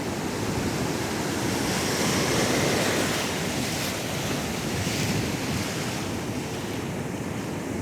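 Ocean surf at Rosarito beach in Mexico, a dense steady wash of breaking waves mixed with wind buffeting the microphone, loud and continuous with no voices.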